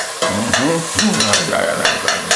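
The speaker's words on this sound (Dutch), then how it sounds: "Laat het even rustig fruiten." Ingredients fry gently in a pan with a steady sizzle, broken by repeated scraping and stirring strokes that come in short, uneven bursts.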